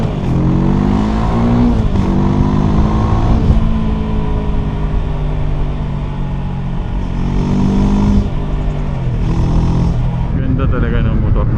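A semi-automatic motorcycle engine hums while riding, rising and falling through gear changes as the revs climb and settle, with a person talking over the steady, close drone.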